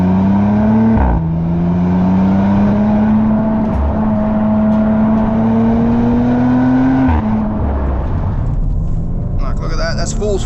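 A 2025 Audi RS4 Avant accelerates hard at full throttle, its engine note climbing steadily through the gears with brief dips at shifts, loud and close from the cabin while a driver talks over it.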